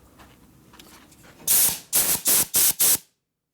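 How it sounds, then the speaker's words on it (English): Compressed air from an air nozzle on a shop air line, five loud hissing bursts in quick succession after a faint background hum, then silence. "She has an air nozzle down here."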